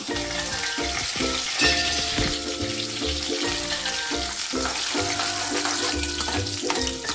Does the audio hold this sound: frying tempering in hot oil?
yes